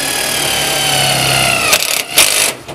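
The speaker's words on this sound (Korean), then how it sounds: "이 앵글에 직결 피스로 바로 임팩을 쳐서 뚫고 들어가는지를 한번 확인해 볼게요." A 12V cordless impact driver sinks a self-drilling screw into roughly 2 mm thick steel angle, giving a steady loud drilling whine that breaks into sharp rapid impact hammering near the end, close up with no talk.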